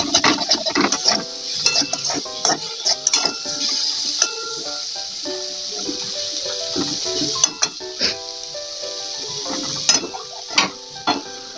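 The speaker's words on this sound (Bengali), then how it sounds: "অল্প করে ভেজে নিচ্ছি।" Fish pieces frying lightly in a pan for Bengali fish curry: a soft steady sizzle with frequent clinks and scrapes of a utensil stirring against the pan, close and fairly loud throughout.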